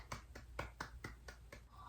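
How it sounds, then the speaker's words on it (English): Hand claps in a quick, even rhythm, roughly eight sharp claps close to the listener at moderate loudness, with no talking. "Collectively hand clap for this beautiful moment"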